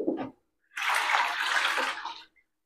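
A spin mop from a V Mop twin bucket set is dunked and swished in the bucket water, a steady watery sloshing for about a second and a half after a brief splash, close and fairly loud.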